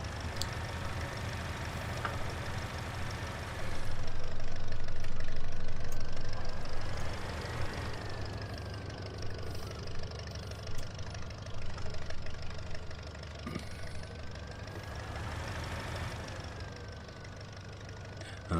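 A tractor from a classic farm pack idles in a farming game, a steady low rumbling engine that swells louder for a few seconds and is joined by a slow rising and falling whine.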